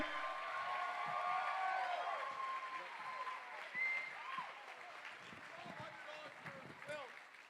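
Standing ovation from a crowd at a ladies' night charity auction, broad steady clapping filling the room with voices and chatter mixed in, gradually thinning toward the end.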